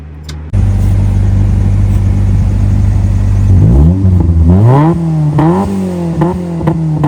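A 1986 Toyota AE86 Levin engine idles loudly with a deep exhaust rumble, then revs up several times in quick rising and falling bursts.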